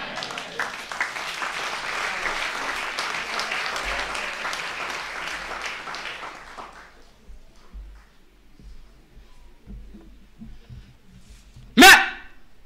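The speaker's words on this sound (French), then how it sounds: "Ah, mais bon applaudissement." A conference audience claps in a dense, steady round of applause for several seconds, then it fades into quiet room noise with a sharp knock near the end.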